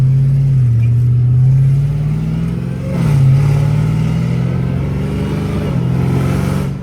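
Catless Dodge Challenger Hellcat Redeye engine idling loud and close with a deep burbling drone, rising in two or three short revs before settling back.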